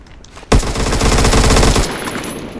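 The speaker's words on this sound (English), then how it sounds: "So, this is a pretty small minigun because it has like a 30-round magazine" A small minigun with a 30-round magazine fires in the video game Phantom Forces. It lets out one loud, continuous burst of rapid automatic fire lasting just over a second, then stops abruptly, leaving a faint ringing tail.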